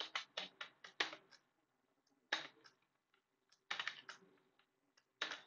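Bursts of typing on a computer keyboard while writing C code, quick clusters of key clicks separated by short pauses, close and fairly quiet, with no talking.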